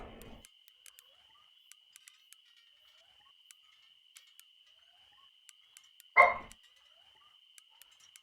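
A single short dog bark sounds in a quiet room, rising once over a faint steady high insect-like tone from a fishing game's night ambience, with scattered soft clicks around it.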